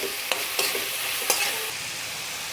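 Spinach is stirred in a hot pan with a continuous loud sizzle and a few sharp scrapes of the spoon against the pan.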